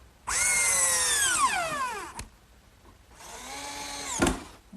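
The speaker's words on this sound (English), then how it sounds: "Now this top assembly gets fastened to the cabinet with screws." Screws are power-driven through the top assembly into a wooden bookcase cabinet, with two separate whining bursts from the drill, each ending in a sharp knock as the screw seats.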